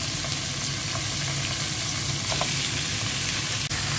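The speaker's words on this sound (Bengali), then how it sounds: "মুরগিটা একটু ভেজে নেব," Chicken pieces with onion fry in a pan, producing a constant, close crackling sizzle, with a few light taps and a brief scrape near the end.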